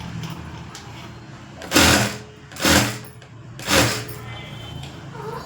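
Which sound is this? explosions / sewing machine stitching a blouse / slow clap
sewing machine stitching a blouse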